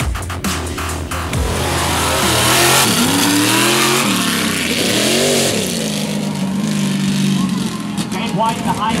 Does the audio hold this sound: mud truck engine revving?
yes